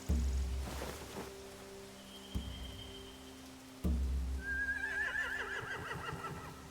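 A couple of heavy thuds are followed by a horse's loud, quavering whinny in the video game The Walking Dead, close by, over a quiet low background hum.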